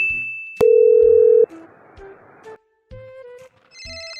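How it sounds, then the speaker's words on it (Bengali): A phone rings with an incoming call, sounding a loud sustained electronic tone followed by a series of shorter ringtone beeps and notes, close by with no talking. "আবার ফোন করছে।"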